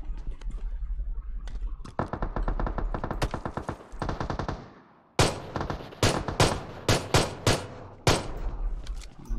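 Rapid automatic gunfire in the mobile shooter PUBG Mobile, long close bursts of sharp shots, a brief pause, then several shorter spaced bursts, loud and without talk.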